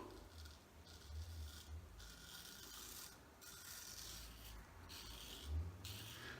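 A razor scrapes slowly across stubble in a series of close, quiet rasping strokes with short pauses between them, and no one speaks.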